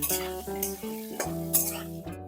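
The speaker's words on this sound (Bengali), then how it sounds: "ভালোভাবে লবণ ও হলুদ দিয়ে আলুটা ভেজে নেবো" Potatoes seasoned with turmeric and salt fry in oil, a close, steady sizzle with stirring scrapes, under a strong tonal background of music.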